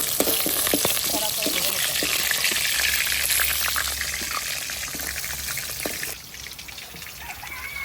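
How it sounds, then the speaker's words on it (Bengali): Pona fish frying crisp in hot oil, making a close, crackling sizzle with many small pops that softens a little toward the end, while a voice speaks faintly in the background. "মাছগুলো দেখুন বন্ধুরা কড়া করে ভাজা হয়েছে"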